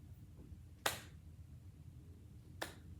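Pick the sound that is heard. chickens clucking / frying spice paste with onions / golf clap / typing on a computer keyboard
golf clap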